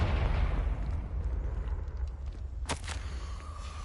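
A Confringo spell explosion in the video game Hogwarts Legacy, a heavy booming blast that rolls off over a second or two, followed by a bright crackling burst and a lingering rumble, with no talk.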